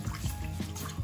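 Water poured into a pot of potato goulash with sausages on the stove, a brief, steady splashing trickle heard up close with no talk.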